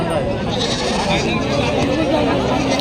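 Goats bleat repeatedly over a dense crowd murmur and chatter at a weekly goat market in Parola, busy and close, the bleats mixing with steady background voices.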